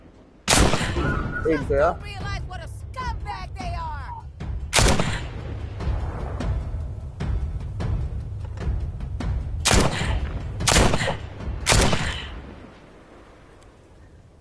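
Gunfire in a VR horror video game, several sharp loud shots spaced out over the span, with a brief voice and other game sounds between them.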